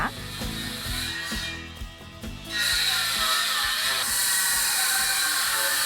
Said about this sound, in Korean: 여기 지금 공사 소리 나는 거 보니까 여기 일하고 계시네